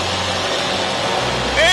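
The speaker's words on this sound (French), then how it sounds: "Ok Normand, donc pleine puissance, ça prend 3-4 secondes" Ultralight trike engine running at full power for takeoff, a loud, steady broadband roar throughout, with a voice speaking over it near the end.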